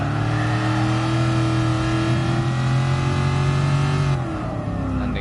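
A Shelby Cobra 427 pulls hard in third gear on a classic Le Mans time rally, its deep engine note loud and close and climbing steadily for about four seconds before easing off.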